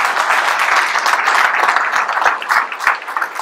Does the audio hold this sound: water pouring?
no